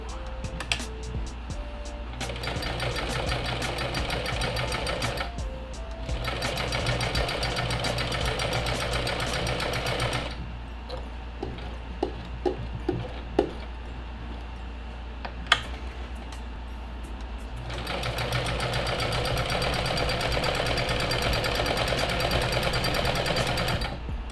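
A sewing machine stitches straight through patio cushion fabric in three long runs separated by quieter handling pauses with small clicks, close and steady.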